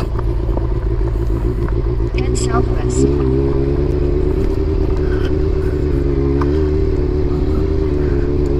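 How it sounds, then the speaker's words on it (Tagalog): A Honda CB400 motorcycle engine labors steadily uphill at close range, a loud sustained rumble with shifting pitch as it climbs, with a voice speaking over it. "Kayang-kaya naman ang motor natin kasi medyo malampot yung gulong sa likod."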